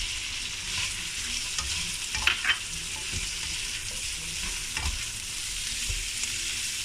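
Long beans stir-fried into kicap chicken in a pan sizzle steadily while a utensil scrapes and stirs, with a few brief clinks against the pan under the constant frying hiss.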